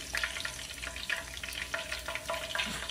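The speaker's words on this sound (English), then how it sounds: "We've been frying them on each side for about 5 minutes." Steady crackling sizzle of snapper frying in hot oil, with small popping bursts throughout.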